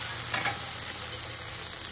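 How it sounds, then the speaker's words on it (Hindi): Masala frying in a pan for a home dal and sabzi meal, heard as a steady close sizzle with faint stirring scrapes near the start. "तो यहाँ पे हो रहा है मसाला फ्राई, मसाला फ्राई हो जाएगा।"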